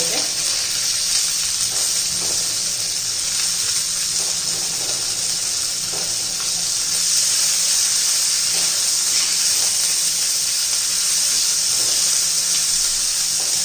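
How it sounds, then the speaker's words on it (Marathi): Green chilies fry in hot oil with a loud, dense sizzling hiss that stays steady throughout. Faint stirring taps sit beneath it, and no one speaks. "घालायच्या तेलामध्ये मऊ होऊ द्यायच्या मिरच्या आपल्याला"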